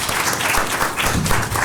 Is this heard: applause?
yes